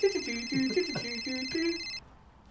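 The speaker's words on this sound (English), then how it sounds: "A phone starts ringing in his pocket." A phone ringing in someone's pocket plays a short bright electronic melody, a quick run of chiming notes that stops sharply after about two seconds.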